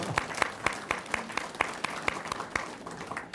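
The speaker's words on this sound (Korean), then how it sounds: "우리 박수 좀 한번 좀 쳐주시기 바랍니다." Clapping from a small seated audience at a regional community meeting with a provincial governor in Geumsan, a sparse group producing distinct, fairly rhythmic claps, moderately close and unaccompanied by talk.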